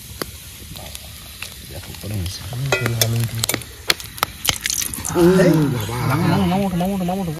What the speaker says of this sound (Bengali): তেজপাতা আর গোটা গরম মশলা ফোড়ন দিয়ে দিচ্ছি